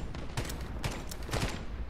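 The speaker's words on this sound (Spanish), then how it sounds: "Son tiros fuertes, son tiros pesados." Heavy gunfire in the video game Lost Light, a run of sharp, loud shots in uneven bursts with short gaps, heard alone without voices.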